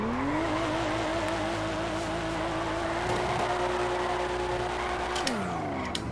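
A car drifts in GTA, played on a steering wheel: a steady engine drone with a long, wavering tire squeal that holds for several seconds before the engine note drops off sharply near the end.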